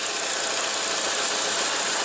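A 2015 Nissan Versa's engine runs at a steady, smooth idle, heard up close with a constant hiss-like hum and no voices.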